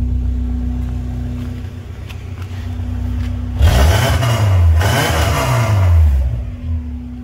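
A Subaru with a new Thrush muffler idles with a steady low drone, then revs up twice in quick rising and falling pulls, loud and close.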